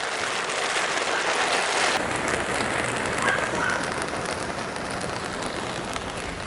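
A sudden rain shower pours down outdoors during work to replace an old water pipe, a dense steady hiss of drops striking surfaces that holds at an even loudness throughout, with no voices.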